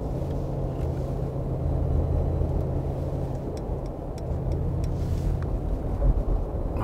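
Cabin of a Mercedes-AMG G63 20th Anniversary Edition on the move, a steady low engine and road rumble with faint ticks, fairly quiet and continuous with no talk.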